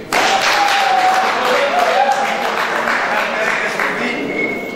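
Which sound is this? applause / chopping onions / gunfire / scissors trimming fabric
applause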